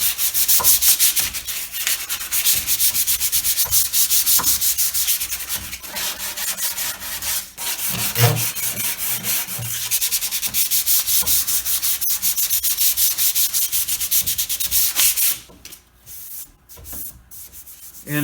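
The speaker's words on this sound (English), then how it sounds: "Now we're going to hand sand the entire piece," An antique Sheraton chest of drawers is hand-sanded with 150-grit sandpaper: steady, close, rasping strokes on wood that run almost continuously, then break into a few short separate rubs near the end.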